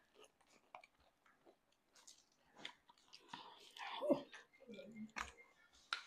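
Someone eating Chipotle food with sour cream, chewing close to the mic: soft, wet, intermittent chewing and small crunchy bites, quiet and irregular, with faint mouth sounds in between.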